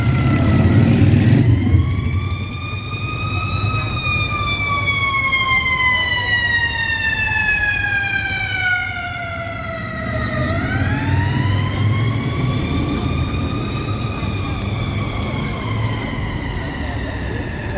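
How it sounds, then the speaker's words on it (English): A Chicago Fire Department ambulance responding to a medical emergency passes through downtown Chicago, its loud wailing siren sweeping up and down in long cycles over city street traffic noise. "That was a Chicago Fire Department ambulance responding to a medical emergency."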